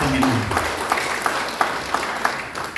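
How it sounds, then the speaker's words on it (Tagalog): A church congregation applauds loudly, a dense, continuous wash of clapping with a few sharper claps standing out, filling the room for the whole stretch. "magsabi ng amen at pumalakpak ng malakas sa ating Panginoon."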